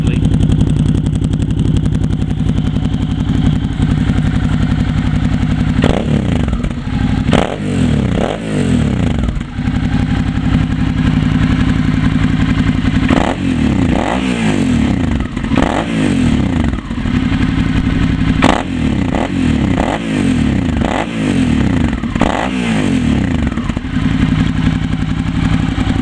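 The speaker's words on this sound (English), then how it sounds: "I'm sure you need to listen to this exhaust" A motorcycle idles with a deep, lumpy exhaust burble, punctuated by several sharp throttle blips that rise and fall, loud and close.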